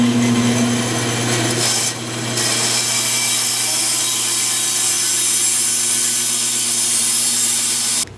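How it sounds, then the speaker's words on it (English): A bandsaw slicing through HDPE plastic, giving a loud, continuous whining rasp with a steady motor hum underneath, one brief dip partway through, then cutting off right at the end. "next we're gonna go to the bandsaw."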